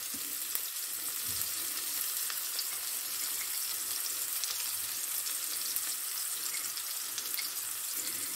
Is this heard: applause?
no